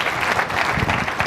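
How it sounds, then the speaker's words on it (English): An audience at a business leadership summit applauds, a soft, even wash of many hands clapping at a distance, sustained for the whole moment. "And those applause are for Dean Kamen, an extraordinary man."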